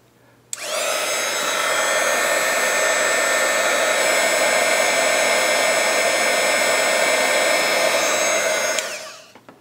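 A hair dryer blows to warm a dried-up gel eyeliner pot. It switches on abruptly with a steady, loud whirring roar, runs for about eight seconds, then winds down; no voices.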